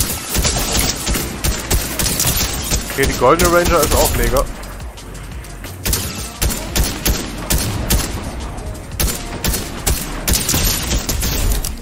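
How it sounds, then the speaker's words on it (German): Repeated bursts of rapid gunfire from a Fortnite match crackle loudly throughout, while a player talks over the shots. "Schüsse über uns."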